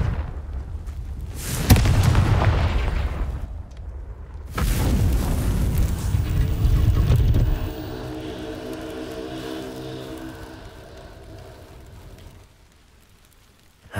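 A Confringo fire spell explodes in Hogwarts Legacy, two loud booming blasts close together followed by a crackling, rumbling fiery tail that slowly fades, with no talking.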